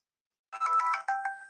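A phone rings with an incoming call, a clear electronic ringtone that starts partway in and repeats in short bursts, close and loud, with no talking.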